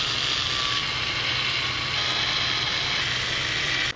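A ratchet works on the idle air control valve of a Mazda 626 as it is bolted back together, giving a steady, dense mechanical whir and clicking that runs continuously and close, with no talking.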